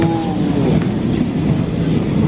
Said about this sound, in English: waiting for the tram to come all the way down